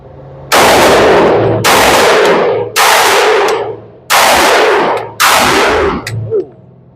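Five loud, close gunshots from a Glock G23 pistol firing .357 SIG rounds, spaced about a second apart, each blast ringing out with a long decaying echo.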